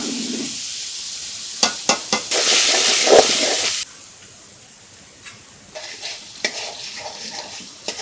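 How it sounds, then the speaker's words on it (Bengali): Spice paste of onion, garlic, turmeric and chili powder frying in oil in a pan, a steady loud hiss with a burst of sizzle as it is stirred, then quieter scraping and tapping of the spoon. "মশলাটা ভালোভাবে কষাই নিতে আসি"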